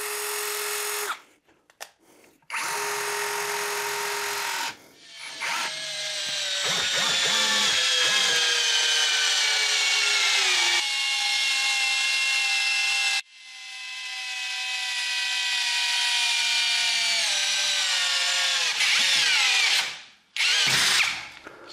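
Lidl cordless screwdriver driving a long screw into solid beech wood: a loud, sustained motor whine rising and falling in pitch through several long runs, with brief pauses and stalls between bursts, heard alone and close.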